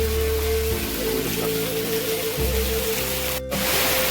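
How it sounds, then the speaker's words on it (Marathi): A dense, constant rush of heavy rain fills the scene, with a low steady hum beneath it. "आज भयंकर जोरात पाऊस आहे"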